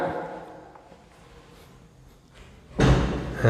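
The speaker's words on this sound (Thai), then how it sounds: "ปิดประตูเลยครับ" A door in a newly built house at Enjoy Home phase 8 in Kham Thale So, Nakhon Ratchasima, shuts with a single loud thump near the end, after a few quiet seconds of faint room noise.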